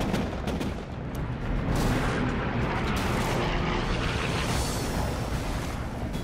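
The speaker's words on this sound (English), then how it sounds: "Laffy unleashes an anti-aircraft barrage. First, the main battery, 5-inch radar-directed guns." Heavy 5-inch radar-directed anti-aircraft guns fire a sustained barrage from a World War II destroyer during a kamikaze attack, a dense, loud rumble of booms that continues without a break.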